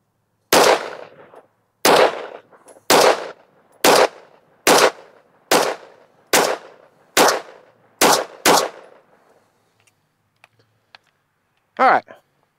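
Ten evenly spaced, sharp pistol shots from a Taurus G3 firing 115-grain Winchester white box ammunition with a new guide rod and spring, each crack loud and close, followed by quiet and a brief voice near the end.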